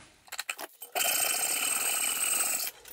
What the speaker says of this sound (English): and then I'm gonna cut it to length